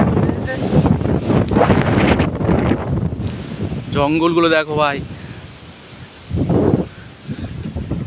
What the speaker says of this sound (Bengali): মানে একটা দমকা হাওয়া আসছে